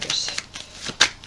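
Vera Sibilla oracle cards are shuffled by hand, with a quick run of close, crisp riffling flicks and a sharper slap as a card jumps out of the deck near the end.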